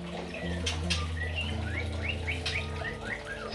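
An orange-headed thrush sings a quick run of bright, sweeping chirps, fairly close and clear over a low steady background hum.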